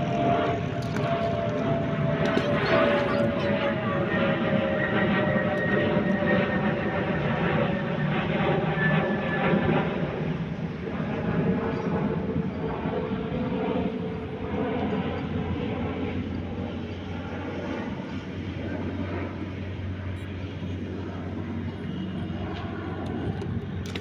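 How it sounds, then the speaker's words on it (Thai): An airplane passes overhead above an old filled-in rice field near Khlong Sam, its engine a steady, loud, droning rumble that lasts throughout and slowly fades. "เครื่องบินมาแล้วลูก"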